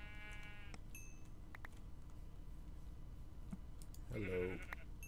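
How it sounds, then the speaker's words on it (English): Sheep bleat in the Minecraft video game: two short synthetic bleats at the start and end, with quiet keyboard taps and clicks between them. "Let's go kill some sheep. Come here, Mr. Sheep."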